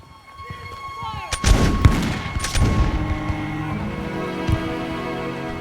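Soldiers' musket volley at the Battle of Bunker Hill, a documentary re-creation: loud, sharp cracks burst together, followed by a rolling, rumbling echo that slowly fades.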